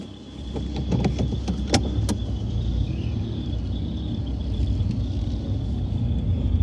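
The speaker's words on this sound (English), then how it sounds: "Let's lower the windows." A car fitted with a turbo has its electric windows lowered, a steady motor whir layered over the low rumble of the idling engine, fairly close and even throughout.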